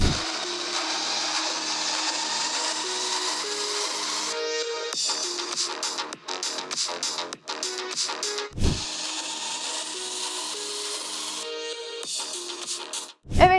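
Audio playing from the small speakers of a Honor Pad X9 tablet, thin and noisy with a buzzy, harsh character and choppy dropouts partway through, at fairly loud volume.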